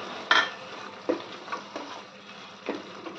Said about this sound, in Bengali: এবার মশলাগুলো দিয়েও আমি কিছুক্ষণ কষিয়ে নেব।